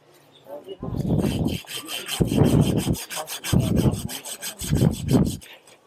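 Four rhythmic bursts of a hand saw cutting through a bamboo rhizome, each stroke series lasting under a second with short pauses between, close and loud.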